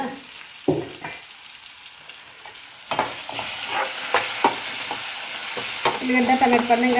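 Onions fry in hot oil in a kadai, a steady crackling sizzle broken by sharp scraping stirs and clatters of the utensil, growing busier as cooking continues.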